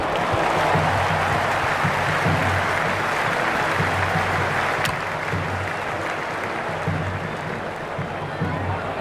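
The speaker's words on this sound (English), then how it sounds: "There's an almost tangible fervour throughout the crowd at the moment." Cricket crowd at an India versus South Africa T20 match keeps up a steady, loud roar of cheering and applause throughout, with a commentator talking over it.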